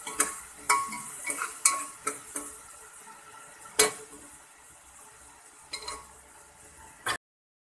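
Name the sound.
sautéing green chili, ginger and garlic paste in oil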